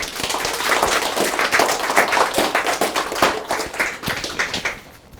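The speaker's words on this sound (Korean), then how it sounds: "또 박수 한번 쳐주세요." An audience claps steadily at a first-anniversary opening ceremony for a branch in Dongtan, with a dense patter of many hands that fades out near the end.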